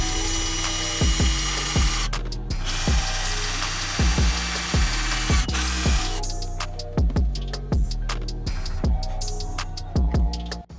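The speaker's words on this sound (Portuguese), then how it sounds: "Eu tô vindo furando aqui, ó. Já coloquei 3 chaves. Eu tô aumentando o buraco." A power drill with a masonry bit bores and widens a hole in a wall. The close, loud whine comes in bursts over a steady series of sharp, rhythmic knocks, with no talking.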